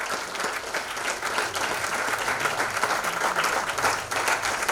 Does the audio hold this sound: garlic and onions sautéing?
no